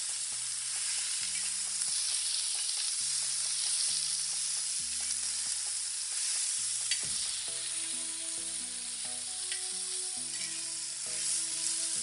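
Chana dal frying in hot oil, a steady bright sizzle with occasional stirring clinks, under continuous background music and without talking.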